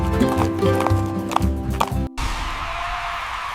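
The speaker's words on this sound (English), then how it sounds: "The donkey trotted down the street with tapping hooves that kept the beat." Hooves clip-clop in a quick steady trot for about two seconds against a musical backing, then the sound cuts to a broad hiss.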